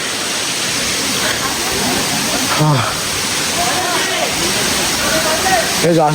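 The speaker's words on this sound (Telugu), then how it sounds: "వాటర్ ఫాల్ ఉంది." A waterfall at Araku roars as a loud, continuous wash of rushing water, with people talking close by over the top of it.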